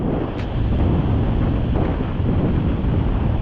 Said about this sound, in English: That wind is still blowing across from right to left. And it's very strong.